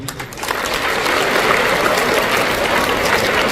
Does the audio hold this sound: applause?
yes